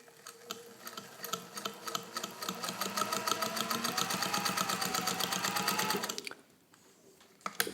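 Vintage Bernina 117-K sewing machine running a long straight stitch, a fast steady mechanical chatter of needle strokes that builds and holds, close and clear, then stops abruptly near the end.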